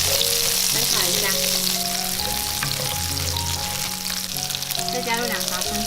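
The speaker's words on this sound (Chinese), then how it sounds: "翻炒一下" Duck wings stir-fried with ginger and a splash of cooking wine in a wok, loud continuous sizzling with repeated scraping and clanking of the spatula as the pieces are tossed, no talking.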